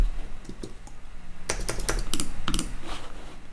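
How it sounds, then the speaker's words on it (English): Typing on a computer keyboard, beginning as faint scattered taps and then turning into a quick, louder run of key clicks over steady background hiss. "Let's type something."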